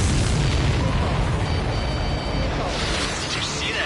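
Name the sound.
explosion of a supply ship in Ace Combat 7 video game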